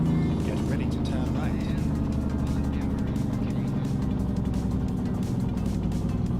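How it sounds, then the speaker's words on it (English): Heavy truck engine brake in American Truck Simulator, a loud continuous low rumbling rattle while the rig slows for an exit, with a voice talking over it. "Yeah, this engine brake sounds so good."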